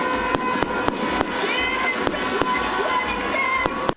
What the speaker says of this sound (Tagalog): Ang inabangang mga paputok ng lungsod, makukulay at pasabog sa pagpapagilas